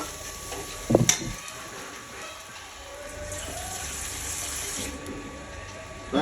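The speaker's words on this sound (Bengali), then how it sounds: "তো এখানে আরেকটু আমার জল দিতে হবে।" Water is poured into a pan of rui fish masala curry, a steady splashing and running of liquid heard close up after a brief clatter.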